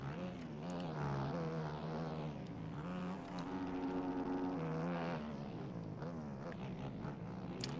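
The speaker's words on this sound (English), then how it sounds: "that Honda sounds pretty beefy behind me as well." A Honda motocross bike engine in a video game sounds from just behind the rider, a loud, continuous, throaty buzz that climbs and drops in pitch as the throttle opens and closes.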